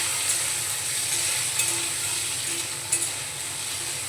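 Chopped tomato goes into frying onions in a pan and is stirred, producing an even hiss of sizzling oil with a few sharp spoon-against-pan clicks, and no speech.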